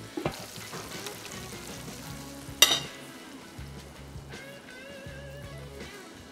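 Prawns with onion and green onion masala sizzle steadily in a hot pan, with a sharp clink partway through and soft stirring movements under the continuous frying hiss.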